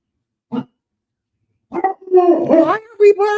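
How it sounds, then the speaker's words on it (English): A dog barks close by, one short yip, then a run of loud, rising and howling barks, with a person's voice mixed in. "why are we barking?"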